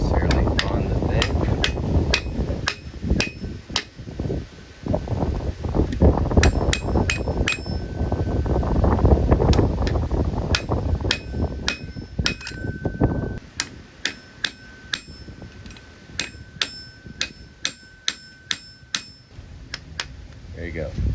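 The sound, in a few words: hammer tapping in Prevost AC compressor shaft seal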